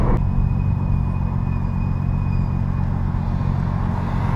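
A Nismo 350Z's brakes give a thin, steady squeal that holds for a few seconds above the car's loud, low engine and road rumble.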